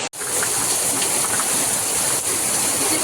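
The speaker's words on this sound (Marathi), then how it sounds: "वारा किती सुटला किती पाऊस पडतो जोराचा पाऊस पडतो" Heavy rain with strong wind roars steadily and close, a broad rushing hiss, with a brief dropout at the start.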